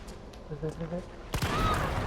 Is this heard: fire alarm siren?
no